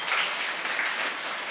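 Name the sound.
applause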